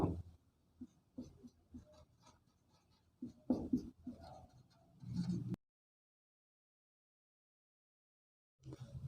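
Chalk or marker strokes on a classroom board during a geometry lesson come as short scratchy bursts close by, broken by pauses, then silence, and a last burst at the end.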